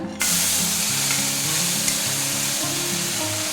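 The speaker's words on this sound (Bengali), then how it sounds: "এক এক করে সব মশলাগুলো দিয়ে দেবো জিরা বাটা" Whole spices and ground cumin paste hitting hot oil for a banana flower curry, a sudden loud, dense sizzle that starts abruptly and holds steady and close, with a low hum underneath.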